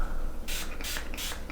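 Four quick hissing bursts of a fine facial mist spray, evenly spaced, close and fairly loud over a low steady background hum.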